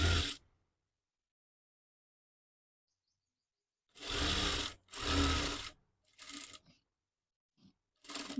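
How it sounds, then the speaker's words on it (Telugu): A sewing machine stitches cloth for a designer bow in short, loud, close bursts of whirring, separated by silent pauses, with one brief start followed by several longer runs and a few quick taps. "రాంగ్ సైడ్ పెట్టుకొని ఈ విధంగా స్టిచ్ వేసుకోవాలి."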